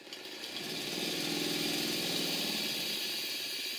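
A Stuart 504 live steam engine fed by a model boiler plant runs steadily during a steam test, a continuous rapid chuffing and mechanical rattle that swells in after a moment and holds even, close by.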